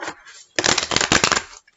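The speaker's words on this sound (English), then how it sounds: "Okay, we'll do one last shuffle." A tarot card deck is riffled in one quick, close shuffle, a dense burst of crisp fluttering card slaps after a brief soft handling sound.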